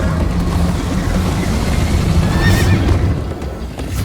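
Horse neighing and galloping in the Minecraft: Story Mode video game, a steady rumble of hoofbeats running throughout with a high whinny rising near the middle, loud and close.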